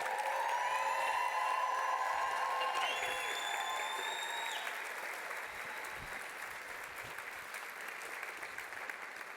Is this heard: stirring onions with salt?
no